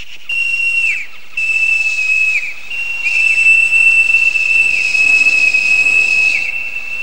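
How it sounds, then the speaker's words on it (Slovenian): A loud, piercing whistle sounds in an animated cartoon, given as a call to someone who may be far off, in three long, steady blasts with short breaks between them and no talking. "Zažvižgal bom,"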